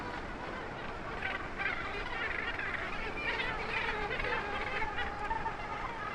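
Cape gannets calling at a crowded coastal breeding colony, a dense, continuous wash of harsh overlapping cries at steady loudness throughout.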